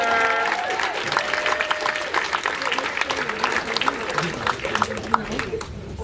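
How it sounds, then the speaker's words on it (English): Comedy club crowd at YukYuk's in Calgary applauding and cheering steadily for several seconds as a comic takes the stage, with a host's voice over the dense clapping. "Big round of applause and a lot of love for Fred Kerr, everybody"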